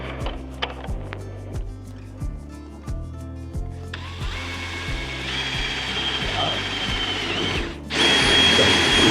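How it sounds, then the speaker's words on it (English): A power drill whirs in steady bursts, boring a hole through a fiberglass shed door header close by, with a rougher grinding surge near the end. "then I'll use my drill to"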